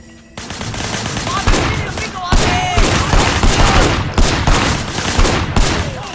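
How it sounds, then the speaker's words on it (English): Gunfire in the Sleeping Dogs video game: loud, rapid automatic bursts and sharp shots crackling almost continuously at close range, with no talk. "Shooting at the guys over there."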